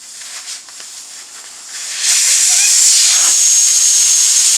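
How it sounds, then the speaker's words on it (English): Air hisses steadily out of a tire being deflated during a bent-rim replacement, a loud continuous rush that begins abruptly and holds at full strength after quieter shop noise. "Now we're gonna take the air out of the tires."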